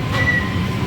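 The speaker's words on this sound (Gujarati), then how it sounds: "ટ્રેન આપણી ઉપડી ગઈ છે" A train pulling out of Sabarmati railway station in Ahmedabad, a continuous close rumble of rolling wagons with a thin wheel squeal rising over it.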